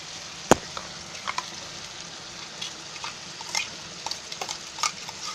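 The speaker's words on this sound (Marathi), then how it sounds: "आणि आता मी त्याच्यामध्ये हा वाटलेला मसाला टाकते." Ground masala is tipped into brinjal and potato sabzi frying in a pan, giving one sharp clatter followed by soft, scattered sizzles and light stirring scrapes. The sounds are close and fairly quiet, and no one speaks.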